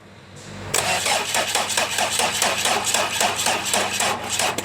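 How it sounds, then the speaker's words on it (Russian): A car engine with its dual-mass flywheel locked and clutch removed cranks and fires, giving loud, rhythmic pulsing bursts that begin abruptly and continue unevenly for several seconds without speech. "И запускаем двигатель."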